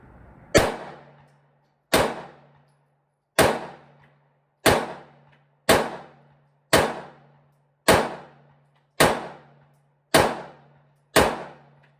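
Nine 9mm pistol shots fired one at a time at a 25-yard target, likely from a Kel-Tec Sub2000 or Smith & Wesson SD9VE, each a sharp loud crack with a short decaying ring, spaced roughly every 1.3 seconds, with no talking.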